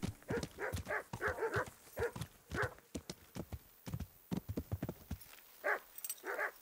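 Dogs in the medieval role-playing video game Kingdom Come: Deliverance give a series of short, close barks and yelps in an uneven rhythm, with faint hoof-like clopping and quiet pauses between bursts.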